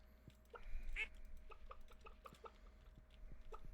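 A void chicken clucking on a farm in the video game Stardew Valley, a series of short soft clucks repeating steadily over light background game sounds.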